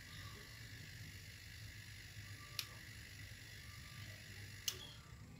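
A refrigerator's defrost timer on a two-door fridge clicks twice as it switches off, two sharp, faint mechanical ticks spaced about two seconds apart over a quiet, low hum.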